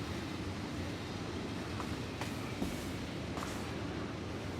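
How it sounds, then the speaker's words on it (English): Train running in the video game Factorio with the Pyanodon's mod, a continuous low rumbling drone with faint rolling clatter, steady and moderately loud throughout, no speech. "let this train do its thing."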